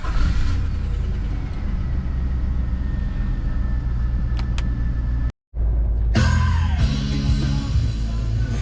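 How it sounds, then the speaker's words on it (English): A car engine running at a steady loud idle, rumbling close by, then cutting out briefly before restarting with a short cranking whir and settling back into a rough, continuous run. "she started and my car runs"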